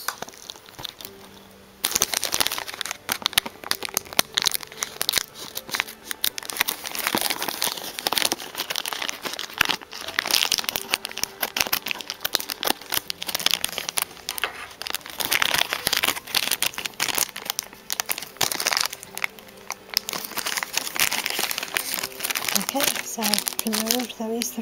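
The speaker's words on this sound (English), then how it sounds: "let me just cut the other scissors." Scissors cut open plastic packaging on an Animal Crossing Series 5 amiibo collector's album, a long run of close, loud crinkling and crunching plastic with snips and tearing, and a person talks at times throughout.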